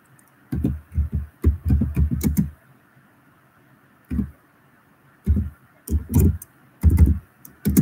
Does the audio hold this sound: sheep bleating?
no